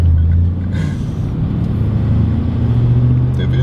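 Supercharged Mercedes C43 AMG W202 accelerating, heard from inside the car as a loud, steady engine rumble that rises in pitch as the revs climb.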